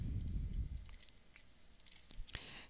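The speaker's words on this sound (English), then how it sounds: "I hate how this mouse clicks" Computer mouse clicks during a game-development recording, a few sparse sharp taps over low rumbling background noise, close and fairly faint.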